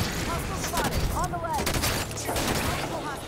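Gunfire in the Halo video game: rapid bursts of shots crackle over loud battle noise, with voices and electronic effects mixed in and no clear pause between volleys.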